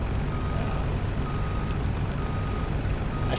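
A truck backing up in a farming video game, with a steady reversing beep tone running over a continuous low engine rumble throughout.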